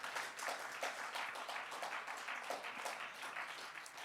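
A church congregation at a sermon on spiritual gifts claps in praise to the Lord, a fairly faint, uneven patter of hands that rises and falls throughout.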